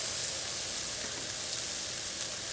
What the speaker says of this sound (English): And you can hear it sizzling